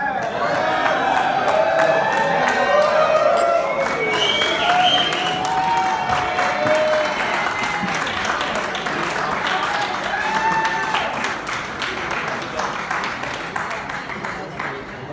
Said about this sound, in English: let's keep those applause going